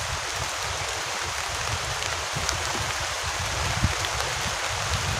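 Heavy rain pours onto a camping tent in a storm with strong wind, a dense, steady hiss that continues unbroken from start to finish with no voices.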